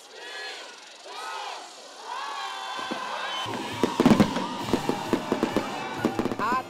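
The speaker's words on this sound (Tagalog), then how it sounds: "at makukulay na fireworks show" Distant fireworks crackle and pop in quick bursts at a New Year fireworks show in Metro Manila while a crowd shouts and cheers in the background.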